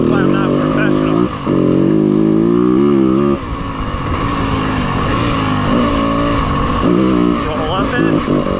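A 2026 Yamaha WR250F dirt bike ridden through corners, its engine loud and close, rising and falling in pitch as the throttle rolls on and off, with a voice talking over it.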